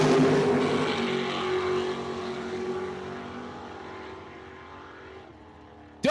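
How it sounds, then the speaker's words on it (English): Drag racing cars, including a 1964 Rambler, launch at a dragway with a loud roaring engine blast that fades steadily as they pull away down the strip. "taking on Rick Keenan out of Galesburg. Driving that 1964 Rambler, dialed in 593 in the Berkey's lane"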